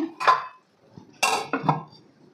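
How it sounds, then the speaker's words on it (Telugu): A pot lid is set down over frying chana dal, giving a couple of light metallic clinks and a clatter of metal on metal, close and fairly quiet, with brief pauses between touches. "మూత పెట్టుకొని"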